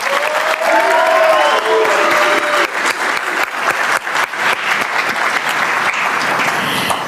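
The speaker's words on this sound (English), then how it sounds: "Please provide a round of applause for Staff Sergeant Jakes." An auditorium audience at an Army non-commissioned officer ceremony breaks into loud, sustained applause, many hands clapping steadily, with a voice briefly heard underneath at the start.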